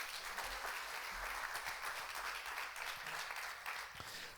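Church congregation applauding at a Sunday service, a steady, fairly soft wash of many hands clapping together throughout.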